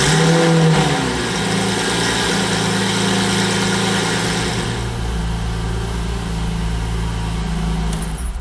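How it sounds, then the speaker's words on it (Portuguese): A powerful sports car engine runs loud and close, a deep steady rumble with a noticeable shift in tone partway through. "aqui na coluna de direção nós temos o sistema de ignição e partida do motor"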